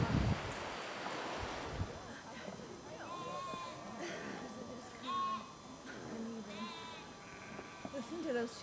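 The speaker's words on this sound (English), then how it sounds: "Listen to those sheep." Sheep bleat in a few wavering calls beside water in Ireland, with wind and surf-like noise underneath and people talking nearby.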